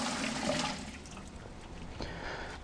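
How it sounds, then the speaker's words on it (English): Water is poured out of a reverse osmosis pre-filter housing, a steady rushing, splashing flow that continues close and fairly loud for the whole stretch, with no speech. "You can go ahead and pour the water out."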